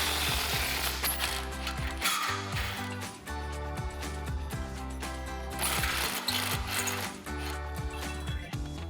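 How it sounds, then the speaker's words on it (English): A ratchet with a 13mm swivel socket works loose the two bolts on the factory exhaust flange of a Ford F-150, giving steady close clicking and metallic rattling over a continuous mechanical background. "Now I'm using a 13mm swivel socket to remove the 2 bolts holding on that factory flange."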